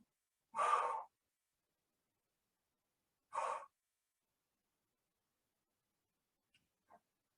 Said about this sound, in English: Exhale on that pull down.